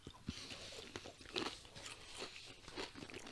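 Crunchy cinnamon toast cereal is bitten and chewed close up, a quiet run of irregular crisp crunches with no talk.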